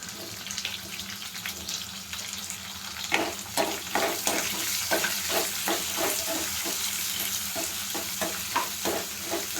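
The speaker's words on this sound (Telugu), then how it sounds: "ఎర్రగడ్డలన్నీ కూడా వేసేసుకొని కొంచెం పచ్చివాసన పోయేంత వరకు బాగా వేయించేసుకోవాలి" Chopped onions fry with cumin seeds in a pan for a farm-chicken curry, giving a constant loud sizzle. Steady scraping strokes of stirring repeat in a fairly even rhythm, close by and with no talk.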